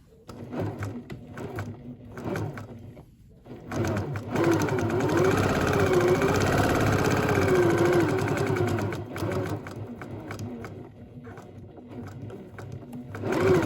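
Sewing machine stitching a quarter-inch seam along a fabric face mask, a loud steady motor whir running for several seconds after a brief start, with short pauses at the beginning.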